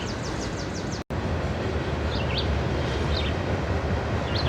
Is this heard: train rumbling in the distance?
yes